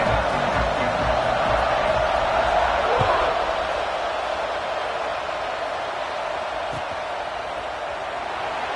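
A large stadium crowd at an American football game buzzes with a steady, loud, diffuse roar after a score, sustained throughout without clear individual voices standing out.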